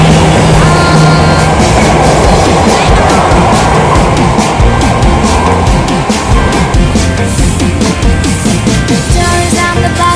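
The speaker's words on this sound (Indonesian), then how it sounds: "Ada kereta" A loud, continuous MRT train rumble at a station with rattling and clacking, close by and filling the whole stretch.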